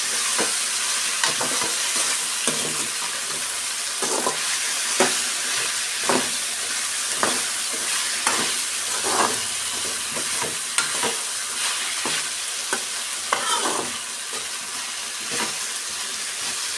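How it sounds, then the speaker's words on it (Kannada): Raw banana pieces with turmeric fry in oil for balekayi palya, a constant hissing sizzle punctuated by regular scraping stirs of a spatula against the pan, close and steady. "ಆಯಿಲಲ್ಲಿ ಒಂದೆರಡು ನಿಮಿಷ ಚೆನ್ನಾಗಿ ಈ ಥರ ಫ್ರೈ ಮಾಡ್ಕೊಂಡ್ಬಿಡ್ಬೇಕು"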